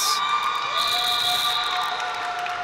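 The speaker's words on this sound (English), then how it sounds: "The crowd is getting louder and louder here." At a roller derby bout in the Roll-Line Cup, the crowd cheers and shouts steadily in the background, a moderately loud, sustained roar of many voices with a few higher whistles.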